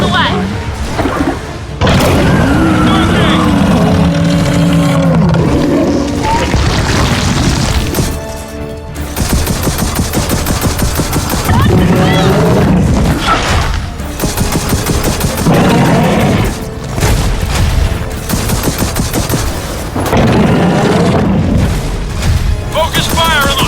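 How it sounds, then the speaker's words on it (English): Missiles launching and exploding in the Gears of War 4 video game, a sustained barrage of heavy booms and crashes layered with game music, with voices talking over the loud, dense action throughout. "Missiles away!"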